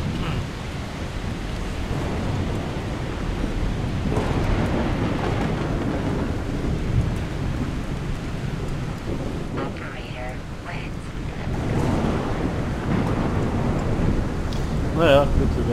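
A thunderstorm in the video game The Solus Project, a dense wash of rain and wind noise with low rumbles swelling now and then, steady and loud throughout.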